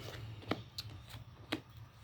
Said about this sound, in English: I know I'm shuffling a lot, but I want like this to really get in there.